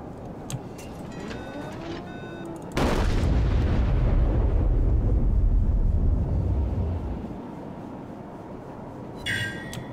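Battleship high-explosive shell fire in World of Warships, New Mexico gameplay: a sudden heavy boom erupts mid-clip and rumbles for several seconds before fading, with lighter metallic impacts before and after.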